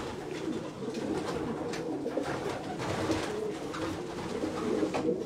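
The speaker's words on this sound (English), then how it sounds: "These are some heavy pigeons in a good way." Racing pigeons in an Irish loft coo softly and continuously, a low, murmuring chorus of overlapping calls with light rustling, heard fairly quietly and close by.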